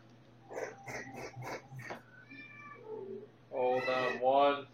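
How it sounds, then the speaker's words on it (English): Indoors, a cat that has wandered in meows several times: soft, clipped calls at first, then two louder, drawn-out meows close by, with some quieter vocal sounds in between. "Oh, I think I heard a cat."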